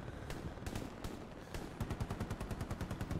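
Rifle fire in the World War II shooter game Hell Let Loose: a few spaced loud shots followed by a rapid, evenly pulsed burst of automatic gunfire, close and dominant.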